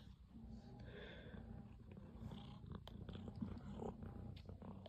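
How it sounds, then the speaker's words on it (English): A pet cat purrs up close with a low, continuous rumble. The purring is quiet and steady and is heard alongside a Lasko table fan indoors. "Sorry about my cat just doing all this."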